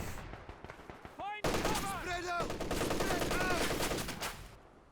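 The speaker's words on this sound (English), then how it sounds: "Stolen MG34 in the building there." Sustained automatic fire from a captured MG34 machine gun in a building during a Company of Heroes 2 3v3 match on Oka River, with dense rattling bursts mixed with other battle noise and a voice briefly heard.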